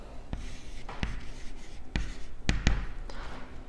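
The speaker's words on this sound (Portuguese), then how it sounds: "que eu vou escrever até em vermelho" A pen writing on a board during a Mandarin numbers lesson, several distinct taps and short scratchy strokes spaced irregularly, close-up and moderately loud with a faint background hum and no talk.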